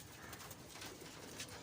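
Pigeons cooing softly on a rooftop among a keeper's flock, the low murmuring calls steady and fairly faint against broadband outdoor background noise.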